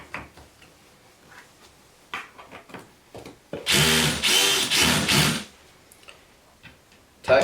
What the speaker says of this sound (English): Tightening down my cam pin